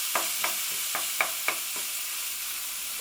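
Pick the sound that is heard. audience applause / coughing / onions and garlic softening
onions and garlic softening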